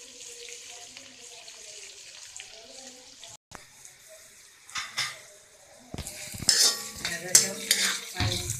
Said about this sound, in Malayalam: ഇത് നല്ലതുപോലെ വഴറ്റണം.